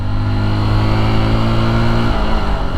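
A Honda XR150L motorcycle engine revs hard and steadily as the rider rev-matches through a downshift, a loud, close, buzzing drone that holds high and then drops in pitch near the end.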